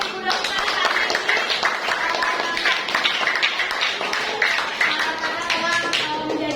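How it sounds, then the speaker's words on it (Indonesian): Students in a junior high science class clap for a visiting doctor, with brisk, rhythmic claps and excited voices calling out together over the clapping. "Tepuk tangan untuk Ibu Dokter hari ini"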